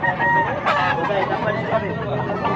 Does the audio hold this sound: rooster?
yes